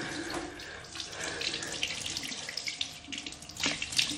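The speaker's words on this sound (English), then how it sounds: "you just want to turn on the water and wash it off" Bathroom sink tap running as face scrub is rinsed off, a close steady flow of water with splashing and hand movements, louder near the end.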